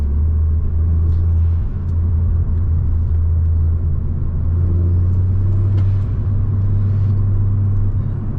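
Ford XR5 Turbo engine running steadily at idle, a loud continuous low rumble with no revving or boost, heard close up and alone without any talk.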